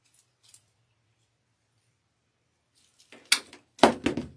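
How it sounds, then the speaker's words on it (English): Scissors snip through a stem of floral greenery for a wreath: after a near-silent stretch, a few quick, close, crisp cuts come in two short bursts. "So we're going to cut one more off here."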